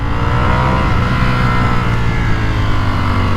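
A Ducati Panigale V4S motorcycle with its stock exhaust runs loud and close, its engine holding a steady, deep, throbbing drone throughout with no pauses.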